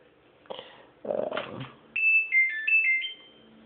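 A Samsung front-load washing machine's short electronic power-on chime of a few stepped tones plays after some handling clatter, clear and close.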